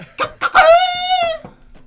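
A person's voice imitates a rooster crowing, one loud close cock-a-doodle-doo with a long, sustained, wavering final note, ending in a brief trailing sound.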